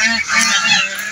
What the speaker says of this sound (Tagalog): Ang ingay ng mga gansa.